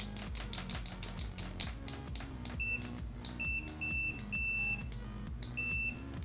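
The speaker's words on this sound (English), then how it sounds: "circuit test DMR 6550 stock probes continuity test." A DMR 6550 multimeter with its stock probes gives a series of short, high continuity beeps that come and go. A rapid train of tapping clicks runs underneath and ahead of them.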